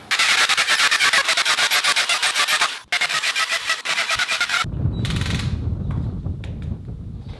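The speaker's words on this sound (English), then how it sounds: "then I can just go along with the hammer drill and drill out the rest of them" Hammer drill boring holes for a workshop door frame, a loud continuous grinding drone that breaks briefly partway through, then gives way to quieter low rumbling and scattered knocks.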